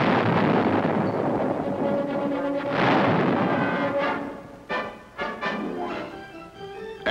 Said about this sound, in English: This meant several days of saturation airstrikes. And artillery fire.